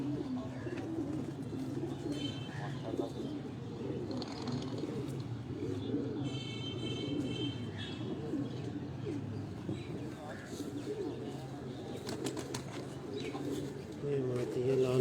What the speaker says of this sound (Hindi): ये बड़ा कबूतर बड़ा कबूतर है जी